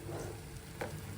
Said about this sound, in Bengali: এই সর্ষে পোস্ত এখন খুব ভালোভাবে নেড়ে চেড়ে কষিয়ে নিচ্ছি